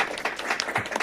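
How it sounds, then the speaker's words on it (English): A room at a county board of commissioners meeting applauds the certification of a drug court program, with a brief burst of scattered clapping from a small crowd at moderate loudness. "Let's give them a round of applause"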